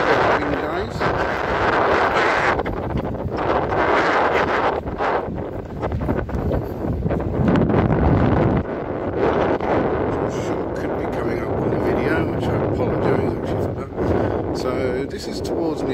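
Gusty wind buffets the microphone beside moored yachts at Spinola Bay, Malta, a loud, continuous rushing roar that surges and eases throughout, with a voice talking faintly underneath.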